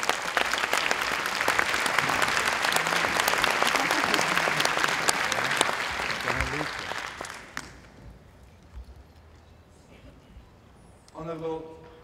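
A conference audience welcomes a speaker with loud, sustained applause that fades out after several seconds, followed by a quiet room and then a voice speaking.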